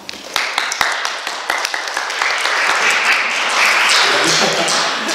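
A church congregation claps together in praise to God at a testimony book publication thanksgiving service, beginning as scattered sharp claps that swell into steady, dense applause filling the room.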